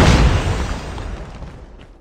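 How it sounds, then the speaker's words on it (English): A grenade going off in Call of Duty Mobile, a loud, close blast whose deep rumbling boom is already under way at the start and then fades steadily over two seconds. "Grenade, run."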